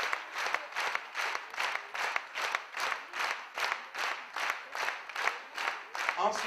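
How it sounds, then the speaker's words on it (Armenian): An audience claps in a steady, slow rhythm, with each beat of many hands sounding together in regular pulses at moderate distance. "հիմա ծափահարությունը շարունակում ենք կեսկով"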